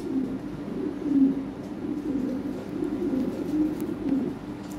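A pair of Lahore pigeons coos nearby in soft, rolling, repeated calls with no talking.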